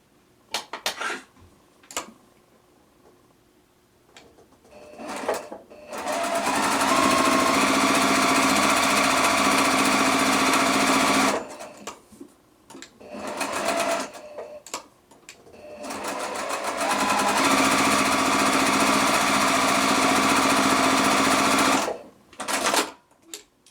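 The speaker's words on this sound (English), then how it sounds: "We're going to take this to the sewing machine and we're going to sew on both sides of this drawn line." A sewing machine stitches quilt block fabric in long, steady bursts of rapid stitching, stopping and starting a few times with quiet pauses and small clicks between.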